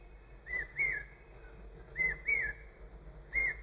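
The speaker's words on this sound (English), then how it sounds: "give your whole mind and heart to that bird that's calling" A bird calls outdoors during a talk in Madras, repeating a clear whistled phrase in three evenly spaced pairs of notes over a quiet, low hum.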